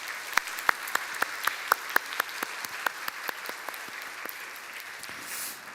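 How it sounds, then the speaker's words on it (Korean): Clapping from a church congregation during a Sunday service, with a run of distinct, evenly spaced sharp claps that grow softer and sparser toward the end, heard at moderate distance. "격려하는 마음으로 다 같이 그렇게 격려의 박수를 보내주시기"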